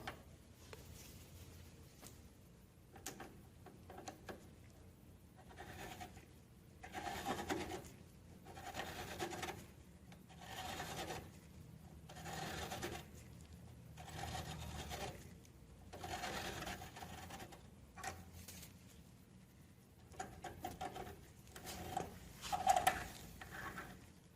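Hand-turned valve seat cutter grinding the exhaust valve seat of a Simplicity 560 engine with a leaky exhaust valve, producing soft, repeated scraping rasps in slow strokes, fairly quiet and close, with no voices.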